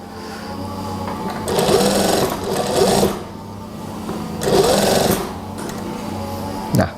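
A sewing machine stitches a trouser waistband in bursts of rapid mechanical whirring, running about two seconds at a time with quieter gaps of motor hum between runs, close and loud.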